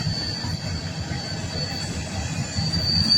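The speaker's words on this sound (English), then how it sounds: "And here comes the train." A long coal train rolls toward the listener around a curve at Quinnimont, West Virginia: a loud, steady rumble of wheels and cars with a thin, sustained wheel squeal above it, growing slightly louder near the end.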